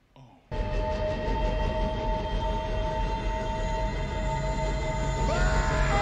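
In a Ghostbusters 2 scene, a heavy, sustained rumble with high tonal whines kicks in abruptly and holds steady, like a train roaring past nearby with screeching wheels.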